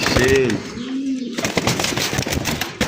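Close pigeon coos while the bird is held and handled, with two or three short rolling calls over light rustling and handling noise.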